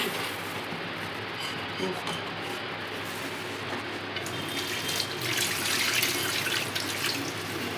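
Tap water runs steadily over lentils, pesarla pappu, being washed in a sink, a continuous splashing wash that swells slightly toward the end, with people talking in the background.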